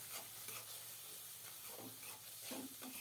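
Ginger and garlic paste with spices being sautéed for a village-style chicken curry with new potatoes and cauliflower, a soft steady sizzle under a few scraping stirs, fairly quiet and close, no talking.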